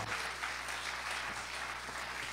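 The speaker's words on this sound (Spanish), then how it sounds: "Dele más fuerte ese aplauso." A church congregation at a Spanish-language sermon applauds with steady, dense clapping that fills the room, fairly faint and continuous throughout, with no talking over it.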